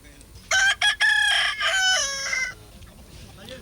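A rooster at a cockfight in Dakshina Kannada gives one loud, close crow, a few clipped opening notes followed by a long drawn-out call that trails away, over faint background murmur.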